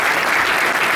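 Audience applause at a book signing and speech event held at a Paris town hall, a dense, steady wash of clapping that fills the whole second at close, even loudness with no talk over it.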